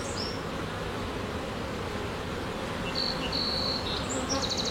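Honeybees swarm around an opened hive frame during a colony split, a dense, continuous buzz close by with occasional higher-pitched flybys.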